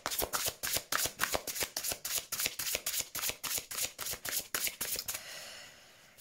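Unicorn oracle cards shuffled by hand for a reading, a fast run of crisp, close riffling bursts in a steady rhythm that stop about a second before the end.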